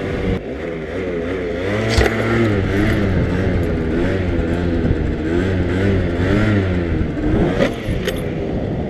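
Motorcycle engine held loud and close during a wheelie, its pitch wavering as the rider briefly brakes and then accelerates again, with a few sharp mechanical clicks.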